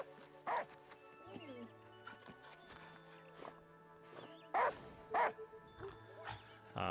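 Dog barking in the video game Last Day of June: a few short, sharp barks at intervals over soft background music and footsteps, with quiet game ambience between them.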